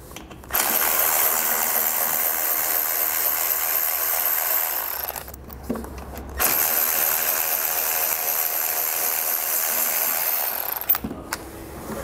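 A ratchet works two 13mm head bolts loose behind the fender liner of a 2022 Buick Encore GX, with two long runs of rapid, close clicking separated by a brief pause.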